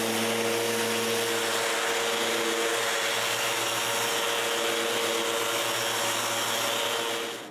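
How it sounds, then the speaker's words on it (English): Power sander working over wooden cabinet parts, a loud steady motor whine with a constant hum and hiss that runs unbroken, then tapers off at the very end, close and without talk. "I disassemble it all again and sand where it's needed."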